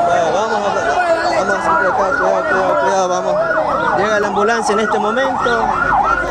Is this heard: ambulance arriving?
yes